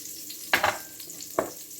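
Shallots and a bay leaf drop into a pan of chuck roast drippings, two sharp bursts of sizzling and stirring clatter over a quiet background, close and brief.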